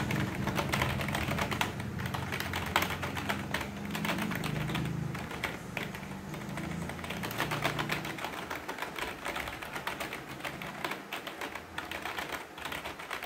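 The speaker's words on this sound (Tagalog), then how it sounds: "kung maririnig nyo, solid ang tunog ng mga keys" Keys on a Rakk Sari mechanical gaming keyboard are typed rapidly, a dense steady patter of clicky keystrokes heard up close and alone for several seconds.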